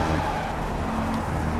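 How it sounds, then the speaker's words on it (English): A Ford Focus races in Project Cars, its engine a steady close roar with road noise throughout this short stretch. "As I race along here in the Ford Focus"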